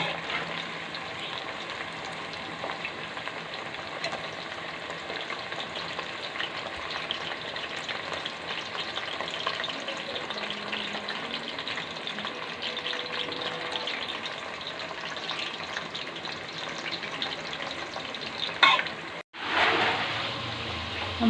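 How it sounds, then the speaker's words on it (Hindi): Potato finger chips coated in cornflour fry steadily in hot oil over a moderate flame, a continuous close crackling sizzle with faint stirring, broken by a brief dropout and louder bubbling burst near the end. "हमारे फिंगर चिप्स जो हैं वो काफ़ी हद तक फ्राई हो गए हैं"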